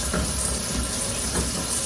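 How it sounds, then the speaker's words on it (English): Cold tap water runs steadily over string beans being rinsed in a kitchen sink, a continuous hissing splash with faint shifts as the beans are moved under the stream. "And I rinse them really, really good with cold water."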